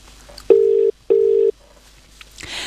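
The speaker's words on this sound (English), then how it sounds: "Oh, it's ringing." Telephone ringback tone heard on an outgoing call, two steady, loud electronic tone bursts separated by a short gap, followed by quiet line noise and faint rustling.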